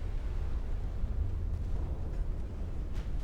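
A rumbling explosion as a warship's turrets blow apart in Ultimate Admiral: Dreadnoughts, a sustained low roar with a few faint pops near the end and no talking.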